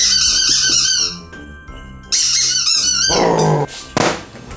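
A dog plays with a squeaky toy, loud repeated high squeaks in bursts with short gaps, mixed with close growling and a faint jingle.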